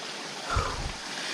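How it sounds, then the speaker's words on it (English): Water rushing from a small waterfall and stream on a fort trek at Visapur near Pune, a steady broadband wash with a brief louder splash in the middle. "and there is a waterfall here"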